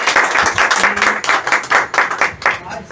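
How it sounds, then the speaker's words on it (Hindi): Applause at a herbal store business meeting, with rhythmic, fairly loud claps in pulsing bursts, as though the crowd claps partly in unison, plus some faint background voices mixed in. "एक बार जोरदार ताली के लिए।"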